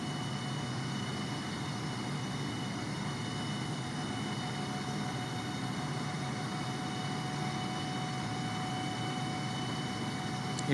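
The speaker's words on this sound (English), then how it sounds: "Hearing a little bit of throttling there as the lift vector changes in the right bank." A propeller airplane in Flight Simulator 2020 drones steadily through a right bank on a flight from Boston to DC, a constant even engine hum with faint tonal whine and no talk over it.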